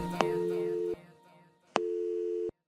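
A telephone busy signal sounds within a song, two long steady tones separated by a short gap, clear and prominent.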